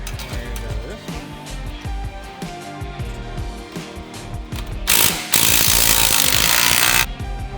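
Roush aftermarket exhaust bolts being tightened under a 2021 Ford F-150 with a ratchet or power tool, sounding as repeated close mechanical clicking and rattling bursts, then a loud steady buzzing run near the end.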